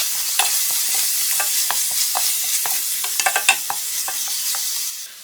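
Chili powder, turmeric and coriander-cumin powder sizzle in a pan as a spoon stirs them, with close, steady frying hiss broken by sharp scraping clicks.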